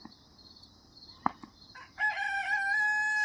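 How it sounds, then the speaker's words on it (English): A rooster on a small farm crows once, long and clear, after a few faint clicks and rustles, with the call holding steady to the end. "You can hear the roosters in the background."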